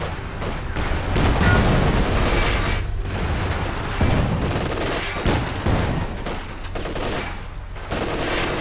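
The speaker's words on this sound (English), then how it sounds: "Taking heavy fire!" Heavy gunfire fills a battle in a war video game, with dense overlapping bursts, sharp reports and low booms that keep coming for the whole stretch, loud and close.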